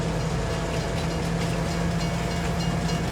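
A train runs in Farming Simulator 22, a constant dense rumble with a steady low hum and faint rail clatter, loud and unbroken with no talk.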